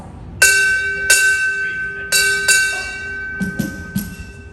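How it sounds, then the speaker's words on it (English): At a Navy retirement ceremony, a ship's bell is struck four times in two pairs. Each bright, ringing strike lingers and decays before the next, and a few softer knocks follow. "Time orderly, strike 4 bells."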